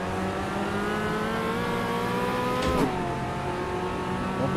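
A Fiat Uno race car engine in Automobilista 2 revs steadily under load, its tone rising smoothly through a gear before a brief dip and shift, then climbing again, close and continuous with no talk.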